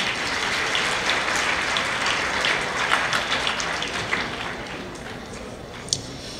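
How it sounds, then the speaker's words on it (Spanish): A university lecture audience welcomes a guest speaker on human rights with sustained applause, a dense, even patter of many hands that holds steady and then eases slightly toward the end. "Vamos a recibir en estos momentos con un fuerte aplauso"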